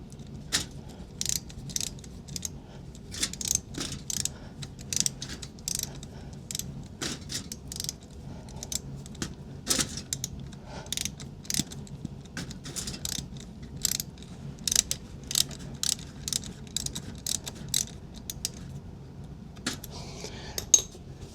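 A ratchet clicks in quick, irregular bursts while snugging the final drive fill plug on a BMW R1250GS motorcycle, close and fairly quiet, with short pauses between strokes and no talking.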